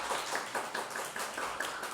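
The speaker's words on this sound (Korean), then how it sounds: "박수로 한번 환영하도록 하겠습니다." A church congregation claps together to welcome visitors, a quick run of light overlapping hand claps in a fairly even rhythm, moderate in level with no talking.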